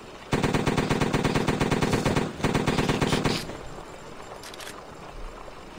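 A loud, close automatic weapon fires two rapid bursts of evenly spaced shots in a video game, separated by a short gap, then fades into quieter ambient noise.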